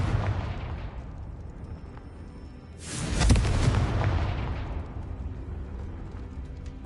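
Confringo spell explosion in Hogwarts Legacy: a loud fiery blast erupts midway and rumbles down over a few seconds above constant game ambience.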